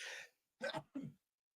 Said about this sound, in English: Uh-oh, sneeze.